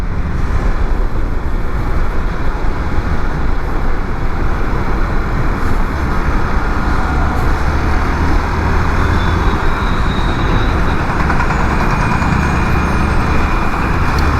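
A Hero XPulse 200 BS6 motorcycle accelerates through Delhi city traffic, its engine a loud, steady rumble mixed with heavy wind and road noise that holds without a break.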